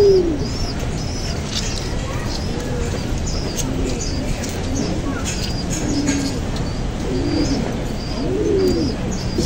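Soft, repeated coos from racing pigeons close by, recurring every second or so over steady low background noise and occasional higher chirps.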